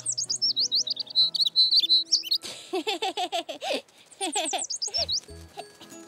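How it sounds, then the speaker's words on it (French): Cartoon baby bird chirping in quick, bright repeated bursts, with several runs of high tweets broken by short pauses, loud and close over soft background music. "Au revoir, petit oiseau."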